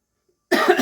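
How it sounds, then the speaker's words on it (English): A single short, loud cough up close, bursting out suddenly after a moment of silence. "See, cough."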